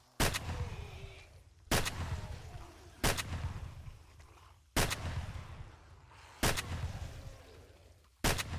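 Booming shotgun blasts from the 7 Days to Die video game with its Escape From Tarkov mod, six heavy shots spaced about every second and a half, each trailing off in a long echoing rumble.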